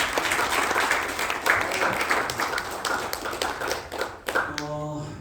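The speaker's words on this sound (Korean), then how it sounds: "박수 한 번 더 부탁드리겠습니다" An audience at an evening invited lecture gives a dense, sustained round of applause, with a speaking voice briefly cutting in at the end.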